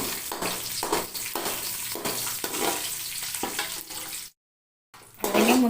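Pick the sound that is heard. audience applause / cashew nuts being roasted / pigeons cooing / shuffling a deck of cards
cashew nuts being roasted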